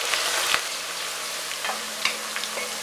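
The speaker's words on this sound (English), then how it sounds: "Onions into hot oil, saute." Onions sautéing in hot oil, a soft, steady sizzle with a few faint scattered ticks and clinks from cooking, fairly quiet and without talk.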